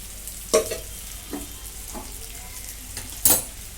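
Bitter gourd stir-fries in a pan over a low flame, a steady sizzle punctuated by several sharp scraping and turning clatters from a spatula, one loud burst near the end.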